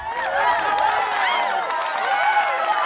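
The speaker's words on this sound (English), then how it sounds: "I've got laughs, a clap track and a laugh track." Canned clap and laugh track effects: a dense crowd of laughter and applause rolling steadily at even, fairly loud level for the whole span, with no pauses.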